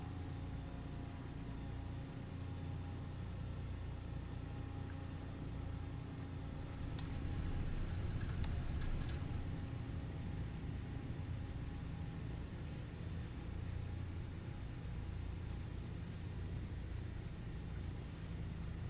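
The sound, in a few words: aircraft piston engine warming up in flight simulator video game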